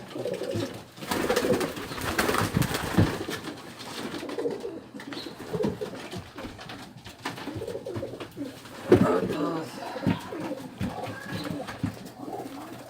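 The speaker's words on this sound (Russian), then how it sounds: "Наши курганские голуби." Pigeons, Tajik and Kurgan breeds, coo repeatedly in soft, throaty bursts, several birds close by, with rustling and fluttering in between.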